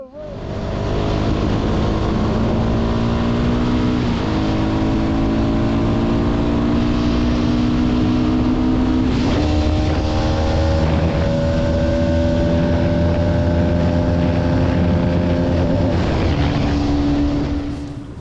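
A motorbike rides along a road through Nepal toward Mustang, its engine droning loudly and steadily with rising and falling pitch as it shifts and accelerates, wind noise underneath.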